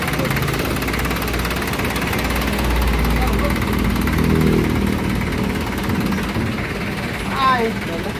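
A running engine that has grown hot, idling with a steady low rumble and vibration throughout, with people talking close by over it.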